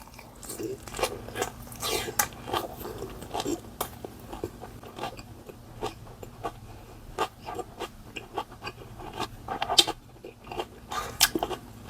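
Someone eating a convenience store lunchbox with spicy pork: soft, close crunchy bites and chewing clicks come in an irregular stream over a faint background hum, with no talking.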